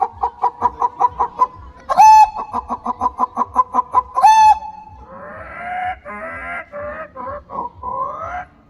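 A man at a bird festival mimics a hen, rapid rhythmic clucks followed by squawking calls, loud and close with no other sounds.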